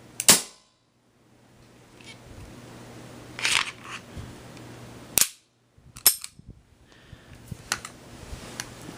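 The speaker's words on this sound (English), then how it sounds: "Alright, so if you go to decock it, I'm gonna fire it this time" Sharp handgun shots ring out up close, one near the start and another midway, with smaller clicks and mechanical handling noises between them, in a quiet indoor-sounding space.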